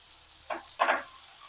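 Mint, coriander and curry leaves are sautéed in a pan for chutney, with two short bursts of sizzling and stirring, the second louder and longer, over near-silence.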